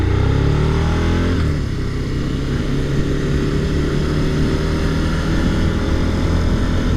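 A Suzuki SV650 motorcycle engine on a test ride gives a steady, loud drone. Its pitch drops after about a second, then it holds an even cruising note with wind noise throughout.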